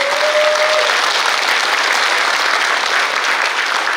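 An audience at a Korean Liberation Day ceremony applauds to welcome the city mayor, a full, even wash of clapping from many hands that holds steady for several seconds, briefly touched by a faint tone at the start.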